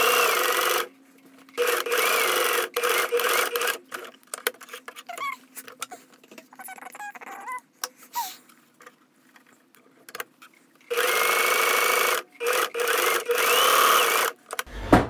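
A home sewing machine with a knit presser foot stitches stretchy knit fabric in several bursts of rapid mechanical whirring, separated by quiet pauses with a few small handling clicks in between.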